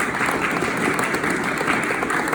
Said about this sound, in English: I want to give you a special round of applause for your transformative leadership in this community